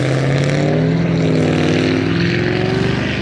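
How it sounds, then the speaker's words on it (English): Heavy traffic on a busy road roars continuously close by, a dense, loud engine drone with a low tonal hum, with no speech over it. "Right behind my back there are cars whizzing by."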